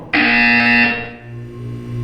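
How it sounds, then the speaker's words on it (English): A loud electronic buzzer from the video game Portal 2 sounds once in a test chamber, a sharp harsh tone that holds briefly and then fades into a lingering hum. "When you hear the buzzer, look up at the ceiling."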